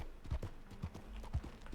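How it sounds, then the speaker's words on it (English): Horse hooves clip-clop at a walking pace in a video game, a few soft distinct thuds spaced unevenly, fairly close but quiet against a faint ambient background. "So let's go back to my horse."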